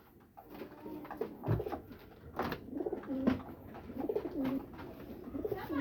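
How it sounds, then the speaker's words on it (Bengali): Pigeons coo close by in a low, throaty series of rolling calls, repeated several times over a quiet background with a few soft knocks and shuffles. "এই যে একটা কবুতর, এই যে ও আসছে"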